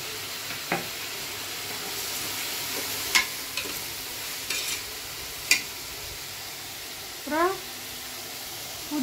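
Tomatoes and green chillies frying in a pan for a home-style veg biryani give a steady, close sizzle broken by a few sharp stirring clicks, with a short run of rising chirps near the end.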